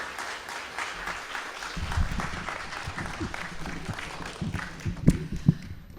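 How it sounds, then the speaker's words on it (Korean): A church congregation applauding, a rising wash of clapping from many hands that builds then thins out, with a few louder nearby claps and faint murmuring voices underneath. "우리 다시 한번 우리 큰 박수로 격려해 주시면 좋겠습니다"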